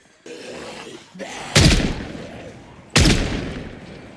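Gunshots in the zombie survival game Project Zomboid: two loud, heavy booming shots about a second and a half apart, each ringing out over quieter in-game background noise.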